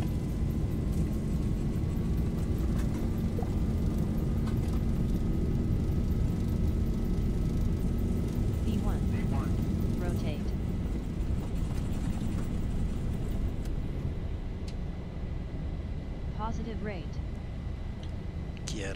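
Steady, loud airliner jet engine roar at takeoff thrust in the Zibo Mod 737 flight simulator, a broad constant rumble with a high whine, with faint chirps and clicks over it late on.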